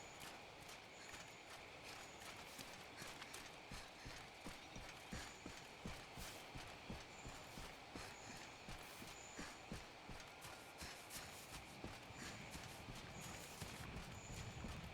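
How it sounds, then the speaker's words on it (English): Heavy monster footsteps in Monster Hunter: World thud in a steady, evenly spaced rhythm for the whole stretch, moderately loud over an ambient game backdrop with faint recurring chimes. "I can hear very heavy footsteps."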